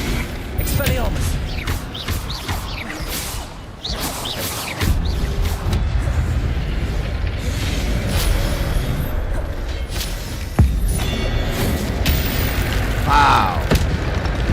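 Spell-casting effects from the video game Hogwarts Legacy, with repeated magical whooshes, booms and bursts over a steady game soundscape, and a voice speaking over them.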